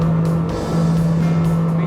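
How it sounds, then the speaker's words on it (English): Ranieri Cayman 33.0 RIB boat at full throttle, its engine droning loud and steady at high revs with a strong constant hum and wind and water rush. "Now, full throttle. What an acceleration, even in the highest part of the rev counter."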